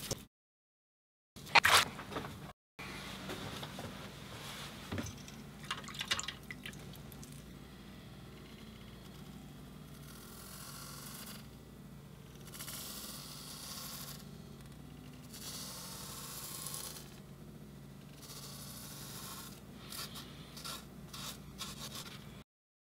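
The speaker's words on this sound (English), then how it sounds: "let's get a shave in here" A Gillette Mach 3 razor shaves off a beard: soft repeated scraping and rubbing strokes of the blade on whiskers, close and quiet, in a fairly regular rhythm with brief pauses between passes.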